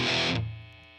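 An electric guitar through a Boss DS-1 distortion pedal strikes one loud saturated chord that cuts off abruptly, leaving a thinner ringing tail that fades over the next half-second.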